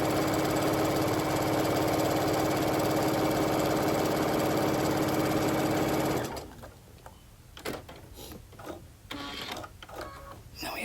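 Close, continuous whir of a sewing machine stitching a quilt block seam for about six seconds, then it stops and quiet handling noises follow.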